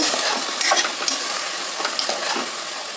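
Avarekalu, field beans, frying in oil over a low flame, giving a steady close sizzle with soft scraping stirs and small clinks of a spoon against the pan, with no talking.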